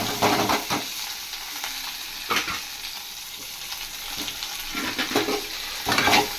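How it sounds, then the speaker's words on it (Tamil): Chopped onion and mint leaves sizzle in hot oil with bay leaf, cloves and cardamom while being sautéed for a paneer curry, a steady broadband frying hiss broken by louder bursts of stirring scrapes near the start, middle and end, with no talk. "வெங்காயம், புதினா போட்டுக்கலாம்"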